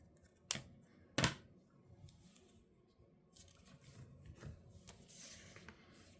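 Scissors cut a strip, with two sharp close snips near the start followed by softer rubbing and handling noises. The sound is very quiet overall.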